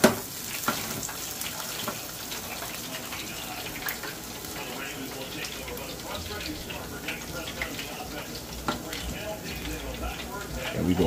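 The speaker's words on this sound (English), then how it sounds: "we gonna fry the rest of them" A batch of Korean-style chicken wings deep fries in oil, a continuous bubbling sizzle with crackling pops and occasional clatter, heard beneath a voice talking.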